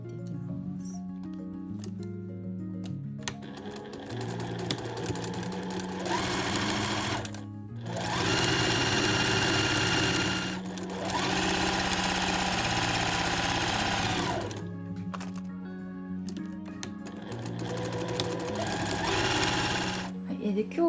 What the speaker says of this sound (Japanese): SL700EX 職業用ミシンで紹介していきたいと思います。